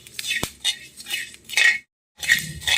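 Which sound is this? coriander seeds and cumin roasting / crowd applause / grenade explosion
coriander seeds and cumin roasting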